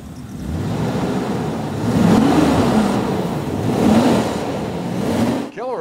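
A custom Mad Max–style road warrior race car engine rumbles loudly up close, its pitch rising and falling with revs before a sharp rising whine at the end.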